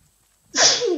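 A single loud, close sneeze bursts out after a brief silence, a sharp breathy explosion that trails off quickly, heard during a cooperative session of the game Raft.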